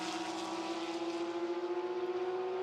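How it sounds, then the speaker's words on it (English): Race cars on the Monza start-finish straight during a Porsche Sports Cup Suisse race, a sustained engine roar at a distance, fairly faint, holding one steady pitch for a couple of seconds. "Hear the roars thunder down the start-finish straight."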